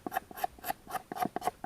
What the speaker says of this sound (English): if you get a knife and you scrape the skin off the bone